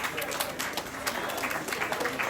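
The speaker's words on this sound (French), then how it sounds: "On peut les applaudir plus fort que ça" A crowd honouring the Coupe de Martinique winners claps loudly in a dense, continuous burst, with voices and cheering mixed into the applause.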